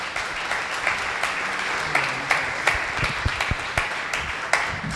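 Applause from an audience at a formal Spanish-language event honoring a magistrate's presentation, a steady wash of clapping with a few sharper claps standing out, moderately loud and with no speech over it.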